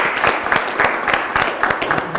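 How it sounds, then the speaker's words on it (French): A small group claps in a loose, uneven rhythm, close and moderately loud, with a few voices mixed in. "Vous pouvez déplier un coin et on s'applaudit"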